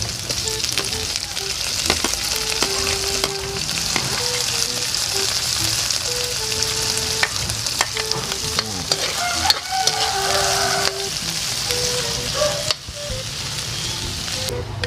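Garlic and onion frying in a pan, a dense continuous sizzle close by with frequent stirring scrapes and clinks of a utensil against the metal, no voices.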